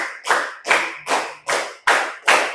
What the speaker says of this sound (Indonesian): 9 kali tepuk.